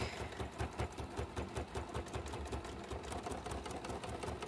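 A sewing machine stitches a Santa appliqué for a book cover, a fast, even mechanical chatter that runs steadily throughout with no voices.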